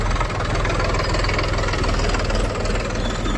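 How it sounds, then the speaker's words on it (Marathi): A Ural tractor idles in a farm field with a close, steady, low rumble and a rapid knocking pulse that holds for a few seconds, with no talking. "आलो भाऊ आपल्या वावरात ट्रॅक्टर"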